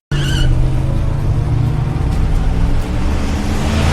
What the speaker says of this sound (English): She steals Jessie's car and flees